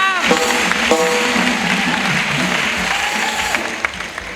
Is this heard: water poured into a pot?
no